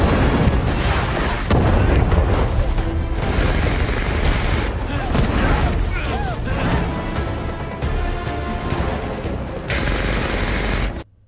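Dense, chaotic film chase scene sound with booming blasts and rapid bursts of gunfire in a shootout over a rumbling, loud mix, with voices buried underneath.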